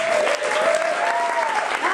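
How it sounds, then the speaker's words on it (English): Comedy club crowd at a Boulder, Colorado show applauding loudly and continuously, dense close clapping with a few voices cheering over it. "round of applause for Andrea Val, who's been working her ass off tonight"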